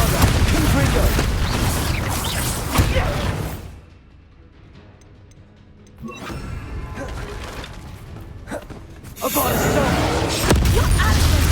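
Spell blasts from a wizard duel in Hogwarts Legacy, heavy booms and crashing impacts in loud bursts, then a quieter lull before more blasts and clanking effects return, with a voice speaking over parts of it.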